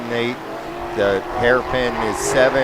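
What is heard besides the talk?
race cars accelerating toward hairpin at Sebring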